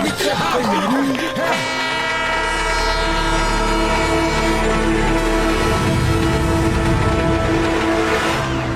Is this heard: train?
yes